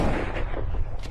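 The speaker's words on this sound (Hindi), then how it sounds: "गोली चलाओ।" Gunshot in a Hindi-dubbed action movie: a loud, dense burst of gunfire roars for about a second, with a rumbling low boom and sharp crack-like texture, heard alone without talk.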